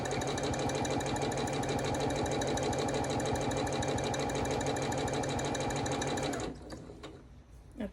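A domestic sewing machine runs steadily and close during quilting, its fast even stitching hum continuing for about six seconds before cutting off into near quiet with faint handling noises.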